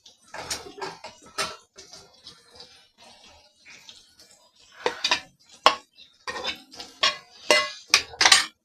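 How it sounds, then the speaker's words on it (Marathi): Paneer and peas tipped into masala in a cooking pan give a series of sharp clatters and scraping knocks of a utensil against the pan, irregular and close, with short quiet gaps between. "पनीर आणि मटार दोन्ही देखील टाकून घेणार आहोत आणि छान याच्यामध्ये परतून घेणार आहोत।"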